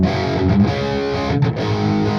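Electric guitar through an amp's modern distortion channel: dense, heavily saturated chords held loud and continuous, with brief dips at chord changes and no speech over it.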